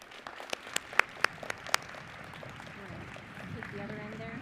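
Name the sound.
audience applause at university commencement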